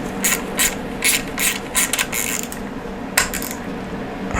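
A ratchet fitted with a 10mm socket clicks in quick, uneven bursts while working bolts on a classic Fiat 500 or 126 engine during a rebuild, close and alone without talk.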